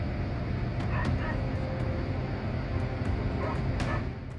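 Dogs bark and yip in short, scattered bursts while confronting a Komodo dragon outdoors, the calls sharp but somewhat distant over a dense, noisy background.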